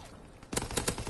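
Rapid bursts of gunfire from the PS4 video game Call of Duty 2017, a short quick volley of several shots, moderately loud.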